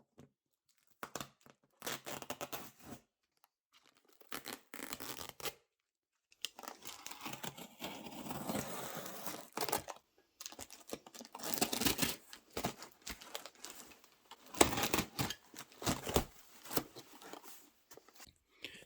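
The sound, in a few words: peeling white packing tape off a cardboard box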